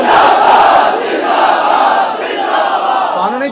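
A dense crowd roars a religious slogan in unison, a loud sustained wall of many voices chanting together for the whole stretch with only a slight dip near the end.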